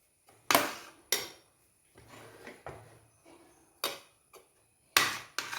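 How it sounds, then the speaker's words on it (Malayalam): Oats payasam being stirred in a pan, a spoon knocking and scraping against the metal in a series of sharp, close clacks with quiet scraping in between. "ഇനി ഇത് നന്നായിട്ടൊന്ന് കുറച്ച് നേരം കൈയെടുക്കാതെ ഇളക്കാം"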